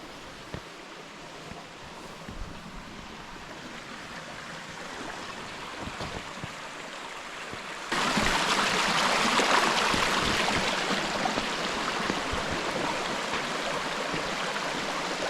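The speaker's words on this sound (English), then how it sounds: "Once we cross the Erskine River" Erskine River stream flowing through rainforest, a steady broadband rush of water that grows noticeably louder and closer about halfway through, with no voices.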